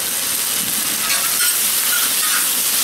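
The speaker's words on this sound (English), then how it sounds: "so I can get kind of a sear on the bok choy" Bok choy searing on a discada cowboy wok, a constant loud hiss and sizzle with no break, with faint crackles flickering through it.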